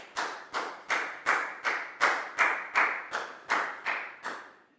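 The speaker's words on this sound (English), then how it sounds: "Big round of applause for Down, please, guys." A classroom of children clapping in a brisk round of applause, eleven even claps at a steady rhythm, close and clear with no talk over them.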